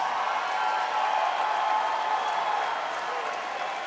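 Audience applause at a live concert with orchestra at the Wiltern Theater in Los Angeles, a dense, steady wash of clapping from a large crowd, loud and sustained throughout.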